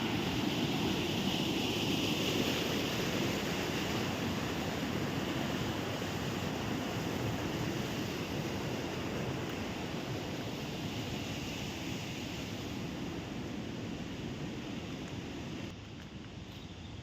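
Rainwater flows through a coffee estate in Chikmagalur, a steady broadband rush that holds evenly throughout, close and continuous with no voices, dipping slightly near the end.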